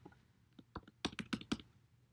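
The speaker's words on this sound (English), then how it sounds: "Let me just type this out." Keys on a computer keyboard clack quietly in short bursts while someone types Java code, with a few scattered taps, then a quicker run of firmer strokes, close and otherwise quiet.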